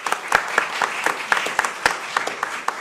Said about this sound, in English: That's really nice that you clapped for me